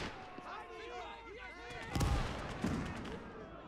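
Mortar fire in a World War II North Africa battle video game, a heavy low boom landing mid-clip with a second thump after it, under loud game chatter and someone talking.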